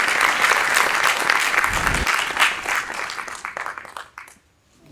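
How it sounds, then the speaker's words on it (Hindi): Hearty audience applause at a Chandigarh book launch, dense clapping that holds for about three seconds and then thins out and fades to near silence. "जोरदार तालियां"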